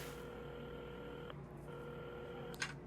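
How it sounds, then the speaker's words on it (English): Telephone tones play during dialing in the game Assemble With Care, steady electronic tones with a brief pause and a short higher burst near the end, alone and quiet. "Carmen had started dialing the phone."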